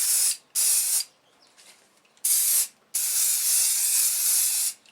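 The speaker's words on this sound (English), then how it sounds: "put a light coating of spray adhesive" Four bursts of hissing spray adhesive from an aerosol can onto an O-ring during a Honda/Acura V6 J-series timing belt job, short then longer, close and loud with quiet gaps between.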